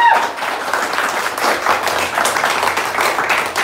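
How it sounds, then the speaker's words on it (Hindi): A room of acting class participants at an actor studio claps steadily in dense, sustained applause, close and loud, the claps blending into a continuous wash from start to finish. "जो लोग देख रहे हैं उनके लिए जोरदार तालियां."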